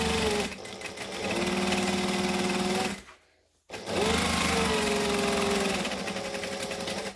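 Sewing machine stitching fabric for a shoulder bag, a fast steady whirring hum in two runs with a short silent pause between them, close and clear with no talk.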